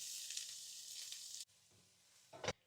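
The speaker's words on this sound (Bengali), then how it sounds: "তেল গরম হয়ে গেলে দিয়ে দিব পেঁয়াজ এবং রসুন" Onion and garlic hit hot oil in a cooking pot, giving a steady close hiss of sizzling that cuts off abruptly partway through, followed by a quieter lull and a brief loud burst of sizzle near the end.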